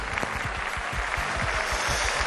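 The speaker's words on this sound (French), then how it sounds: "On l'applaudit." An audience on a studio set claps in a brief, steady burst of applause, with no talking.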